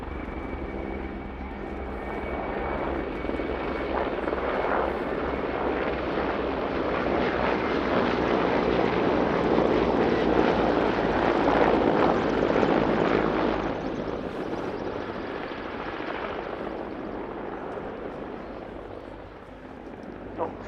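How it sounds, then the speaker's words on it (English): Steady heavy rotor and turbine roar of several Czech Air Force military helicopters, including a Mil Mi-24 Hind, passing overhead in formation at the RIAT 2022 airshow, swelling loud through the middle and fading slightly toward the end. "It's not actually that often you see helicopters in formation, let alone different types of helicopters."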